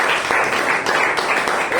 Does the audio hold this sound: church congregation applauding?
yes